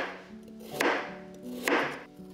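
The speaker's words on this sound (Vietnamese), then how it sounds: "2 củ cà rốt này mình tỉa hoa và cắt thành lát như thế này." Knife cutting through carrots that have been carved into flower shapes and sliced into rounds: two distinct, crisp chops on a board about a second apart, close and clear with quiet pauses between.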